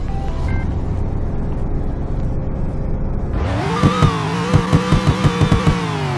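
A Western Motors car in Roblox Greenville starts up from a low idle hum into a loud, close engine drone that revs repeatedly in quick rhythmic pulses.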